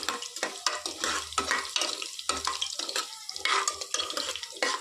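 Lentils and peanuts fry in oil over low flame for lemon rice, heard as a close, continuous sizzle broken by frequent scraping stirs of a spoon against the pan.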